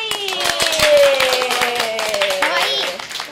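Hands clap in a quick, uneven rapid burst, close and crisp, while a voice talks and laughs over them.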